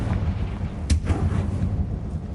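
A Confringo fire spell fired in the video game Hogwarts Legacy, one sharp booming blast with a short rumbling tail over a steady low game background.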